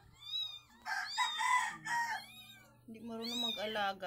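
A cat meows with high, wavering harmonic calls at the start and end, close and fairly clear, while someone talks in Tagalog over a low steady hum in between.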